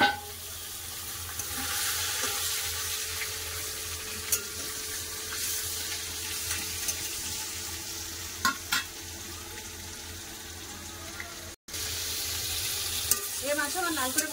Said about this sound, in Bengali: বাকি যে মাছগুলো আছে সেগুলো একবার লাল করে ভেজে নেবো।